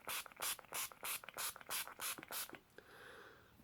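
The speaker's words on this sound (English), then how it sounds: "Use the makeup setting spray" Makeup setting spray mists out in about nine quick, evenly spaced hissing bursts from close range, followed by a softer, longer trailing spritz.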